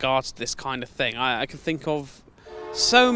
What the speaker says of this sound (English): You'll have to excuse the passing train.